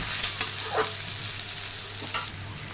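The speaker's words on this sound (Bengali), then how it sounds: "আদা রসুনের পেস্ট দিয়ে দিলাম, পেস্ট কুচি। এটা ভালো করে একটু নাড়াচাড়া করে" Ginger-garlic paste sizzles in hot oil for a yogurt-cashew mutton curry, with a short burst of steady frying hiss and a couple of quick spoon scrapes.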